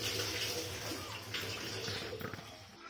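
Water pours steadily with a dense, continuous rushing splash for about three seconds while samosas are being made in a home kitchen.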